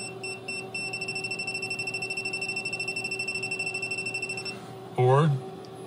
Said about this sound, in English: This is the non-contact AC voltage detector. Just turn it on and hold it close to a wire that you think might be live.